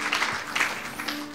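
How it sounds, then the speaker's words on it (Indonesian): A church congregation claps during an online worship service at GBI Sport Centre: a short, dense burst of moderate applause with no voices over it. "berikan tepuk tangan yang meriah buat Tuhan"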